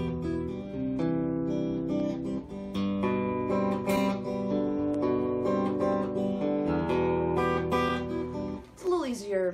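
Acoustic guitar plays a variation of a song with two eighth notes at the start, steady sustained strummed chords throughout, ending with a brief bent or sliding note.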